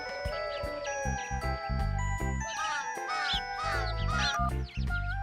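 Several crows cawing in a park, harsh repeated calls mixed with bright tinkling jingles and background music, fairly loud and continuous.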